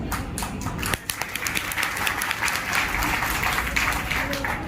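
Audience at a public gathering in Moradabad claps for a protester, a dense, steady roll of many hands that runs the whole time, close and loud, with crowd murmur mixed in.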